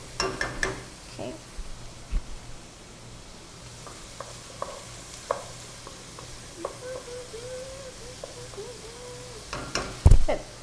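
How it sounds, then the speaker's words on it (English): Rice and vegetables sizzle softly in a pot while being stirred, with occasional scraping clicks and knocks of the spoon over a low steady frying hiss, louder clatter near the end. "Okay, so we're going to stir that around."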